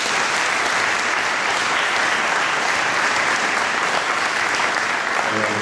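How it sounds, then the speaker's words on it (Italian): Sustained, loud applause from an audience at an exhibition event at the Province of Foggia, a dense, even roar of clapping hands that continues without break from start to finish. "Un applauso."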